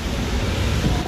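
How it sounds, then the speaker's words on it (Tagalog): Heavy rain pours down in a dense, steady roar of broadband hiss with no gaps, loud and close, with no voices heard. "Lakas ng ulan, no?"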